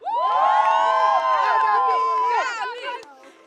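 Fans in a game-show audience cheer loudly for a contestant named Gabi, a dense burst of overlapping voices and shouts that holds steady for over two seconds before trailing off.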